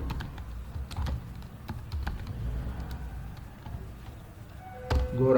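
Clicks of a computer keyboard as a search query is typed, with quick irregular taps at moderate closeness over a quiet room, followed by a brief burst of faster keystrokes near the end.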